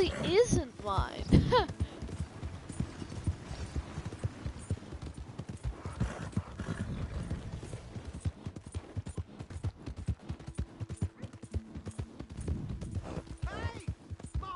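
Horse hooves clip-clop steadily in Red Dead Redemption, a regular walking rhythm running under frequent talk, with a brief whinny near the start.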